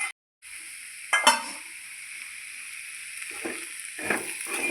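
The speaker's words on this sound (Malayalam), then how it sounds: "നല്ലോണം ഒന്ന് ഇളക്കി കൊടുത്തിട്ട് ഒരു 5 മിനിറ്റും കൂടി നമുക്ക് മൂടി വെച്ച് വേവിക്കാം." Ivy gourd (kovakka) pieces being stirred in a pan while cooking for pickle, with a soft steady sizzle and a few scraping stirs from the spoon, faint and close, no talking.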